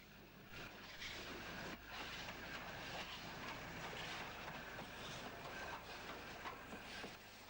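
A1 steam locomotive crossing a complex railway junction on the way to Gateshead shed, a faint, distant rolling rumble with rhythmic clatter that swells slightly and holds steady, no voices.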